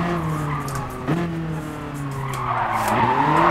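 Tires of a BMW E30 skid and squeal during a full-lock drift in Gran Turismo Sport on Tsukuba, a sustained screech over engine drone with pitch shifts as the car transitions corner to corner, swelling louder toward the end.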